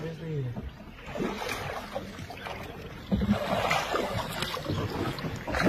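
A boat moving on the water at Meena Bazaar in Kashmir, a steady wash of water and wind noise with people talking nearby throughout.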